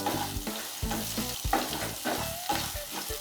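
Green chillies sauté in a pan for Chettinad-style paarai fish curry, sizzling steadily up close with repeated stirring scrapes and clinks.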